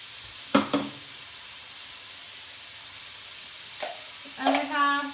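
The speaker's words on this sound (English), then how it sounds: "next we're going to add the onion" Half an onion dropped into a hot pan for black bean and sweet potato rice bowls, giving a brief crackling sizzle after a clatter, then quiet frying hiss and a second burst as more goes in near the end.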